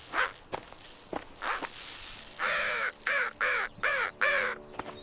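A crow caws five times in a steady, evenly spaced series of harsh calls, fairly close and alone, after a few soft scuffing sounds.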